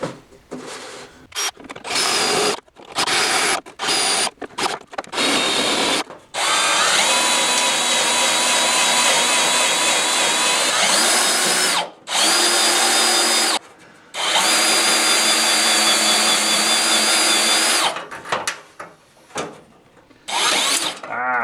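A power drill whines through sheet metal in a run of short bursts, then several long, steady grinding stretches with brief pauses between them, loud and close.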